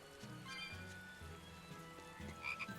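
Repeated frog croaking in a Tales of Berseria scene, a steady run of low ribbits over soft ambient game sound and light dripping, moderately quiet with no voices.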